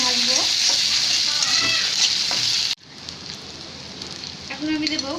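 Ginger, coriander and cumin paste fries in hot oil with a loud, close, continuous sizzle and stirring, dropping abruptly to a softer sizzle partway through.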